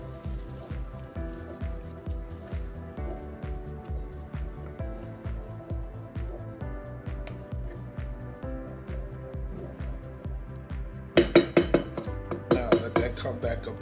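A spoon stirs Spanish rice ingredients in a pot with steady, rhythmic scraping and soft squishing. It is fairly quiet and close, and a few sharper clinks of the utensil against the pot come near the end.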